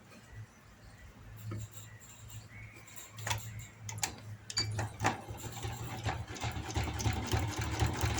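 A sewing machine stitches palazzo pants, running in short bursts of fast ticking, faint at first and growing steadier and louder toward the end.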